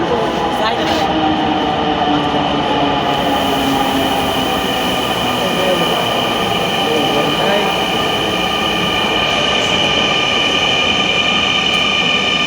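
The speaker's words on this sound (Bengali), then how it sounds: "মেট্রো রেলের" A metro train rumbles steadily along an elevated track throughout, with a continuous roar, faint wheel squeal and rattling carriage noise.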